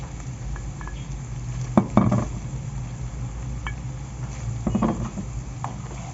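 Colored bell peppers being stirred into a pan of softened onion and chicken for Syrian shawarma fatteh: a soft frying hiss with a few scraping spoon strokes and light clinks against the pan.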